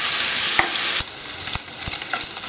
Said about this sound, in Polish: Boczek będę podsmażała do wytopienia tłuszczu.